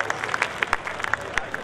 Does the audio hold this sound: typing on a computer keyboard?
no